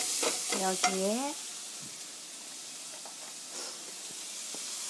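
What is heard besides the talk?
garlic and onion frying in a pan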